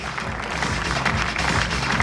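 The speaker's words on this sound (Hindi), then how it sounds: "Come on everyone, तालियां जोर से होनी चाहिए." Dense, continuous clapping from an audience at a college reunion and expo fills the hall evenly from start to finish, with no voices over it.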